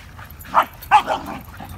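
A pet dog indoors gives two or three short, sharp barks close by, with a faint whine between them.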